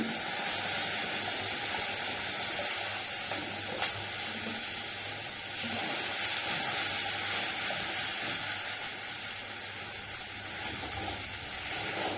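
Water poured into fried spice masala in a pan while cooking a pumpkin dhoka curry, giving a steady, loud, broad hiss of sizzling and steam that holds without pause.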